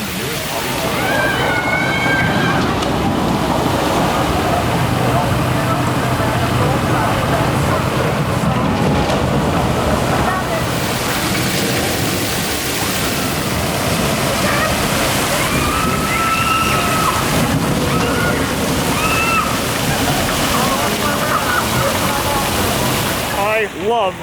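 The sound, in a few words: log flume ride water splashing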